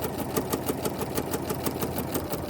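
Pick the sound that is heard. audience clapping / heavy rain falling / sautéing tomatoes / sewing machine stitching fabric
sewing machine stitching fabric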